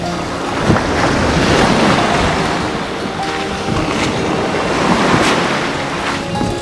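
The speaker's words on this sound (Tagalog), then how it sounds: "ang lakas nung hampas nung alon eh" Ocean waves crashing hard onto the beach at a Batangas campsite, a loud continuous surf roar with rolling surges and buffeting wind noise on the microphone, no talking.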